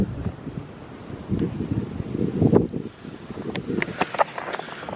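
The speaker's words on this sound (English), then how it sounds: "It's also so windy outside right now." Strong wind blowing outdoors during a snowstorm on a bitter cold winter day, a steady broadband rush with gusts that swell and fade, buffeting the microphone throughout with no talking.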